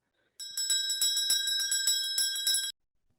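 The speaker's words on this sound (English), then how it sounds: "The bell invites me." A bell rung during a stage production of Macbeth, a rapid run of bright metallic strikes, loud and close with no speech, ending abruptly after a couple of seconds.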